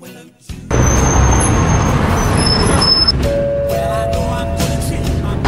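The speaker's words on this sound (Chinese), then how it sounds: "现在出去赶公交车" A city bus runs loudly close by, a broad engine roar that rises abruptly after a brief quieter moment and holds steady, with faint squeaks and a low whining tone from the vehicle partway through.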